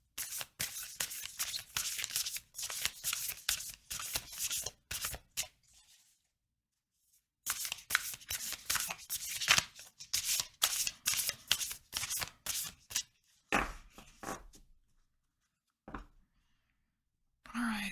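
Lantern Oracle cards are shuffled in bursts of crisp riffling and rustling, close and fairly quiet, with pauses of near silence between the shuffling runs.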